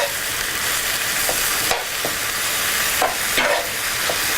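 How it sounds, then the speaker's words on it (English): Meat stirred as it fries in a pan for stuffed rolls, a steady sizzle with a few distinct scrapes and clicks of the spoon against the pan, close and clear with no talking. "Okay, so let's keep stirring that."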